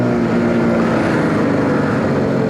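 A Zontes G125 (ZT125 G1) 125cc motorcycle engine runs hard at high revs, a loud, steady, continuous buzzing drone with no break and no voices.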